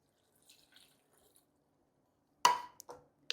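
Water poured into a bowl for gluten-free lentil bun dough, heard as a brief burst of splashing and dripping with a couple of short follow-up splashes after a quiet stretch.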